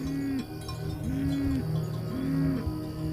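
Cattle in a Maasai village give long, loud lowing moos, three drawn-out calls in a row, close by and with no talk over them.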